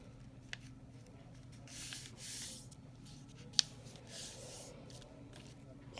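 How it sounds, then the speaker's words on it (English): Paper being folded by hand into a shutter fold, with soft rustling, sliding and creasing strokes plus a couple of sharp crisp snaps, fairly quiet and close. "you're going to fold the two doors in front"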